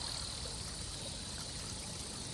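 Flowing river and wind in a video game, a soft, steady rush of running water with airy hiss, faint and continuous with no other sounds.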